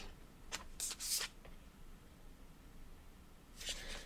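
A deck of Rumi oracle cards is shuffled in quick riffling bursts near the start, then a pause of near quiet before one more shuffle at the end, close and crisp with no talking.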